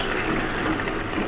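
Water poured into a pan of braised chicken on the stove, a steady, close rushing gush that fills the whole moment without pause.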